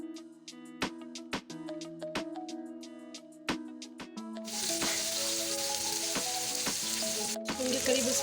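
Chip-cut potatoes go into hot oil with a few sharp clinks, and a steady loud sizzle of frying takes over and holds, with a brief pause, then bubbling continues, no voices.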